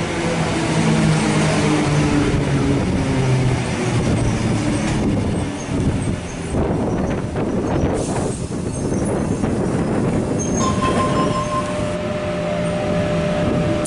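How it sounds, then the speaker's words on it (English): A Sydney Tangara electric suburban train pulls away from platform 2 at Wahroonga station on a Hornsby service, a loud steady rumble of wheels and motors with rail squeal and clatter as it gathers speed past the platform. "Tangara set T64 and its friend is now departing platform number 2, Hornsby service."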